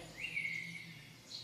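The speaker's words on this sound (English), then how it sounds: "You hear those birds chirping?" A faint high bird chirp draws out briefly over quiet outdoor woodland ambience, with soft rustling in the background.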